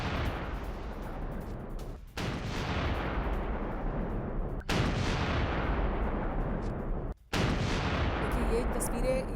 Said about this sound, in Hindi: ये दरअसल एक धमाका था